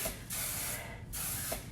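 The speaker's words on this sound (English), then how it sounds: "I'm going to spray this." Two bursts of aerosol spray, each a sharp steady hiss lasting under a second, separated by a brief pause, close by.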